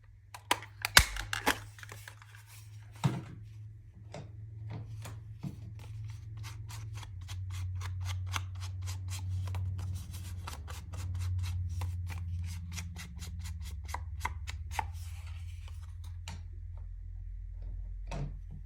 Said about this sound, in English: And then I'm going to cut a little notch in this.